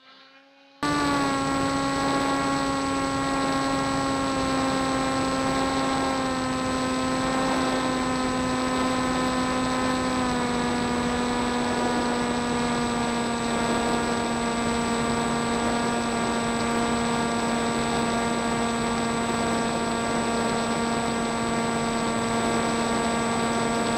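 FX-61 Phantom RC flying wing with an upgraded electric motor and 11 inch propeller, flying at under half throttle: a steady, close, loud whining drone with a constant pitch after a brief start, no voices.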